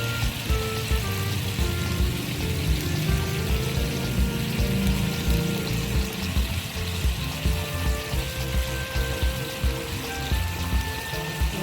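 Sweet and sour sauce boils in a pan, a steady bubbling and hissing that stays moderately quiet and continuous throughout.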